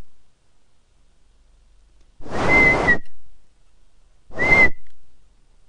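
A person whistles two short steady tones to trigger a software toggle, each clear and close, separated by near silence.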